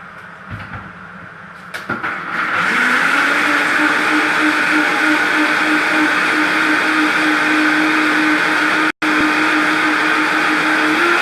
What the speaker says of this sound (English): Just got to blend it up.